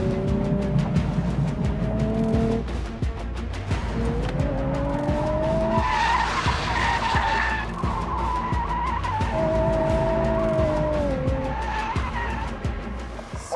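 Tires skid and squeal loudly as a car drifts in a German TV challenge where teams compete for the longest continuous tire mark, with the engine revving throughout and several sustained screeches rising and falling in pitch.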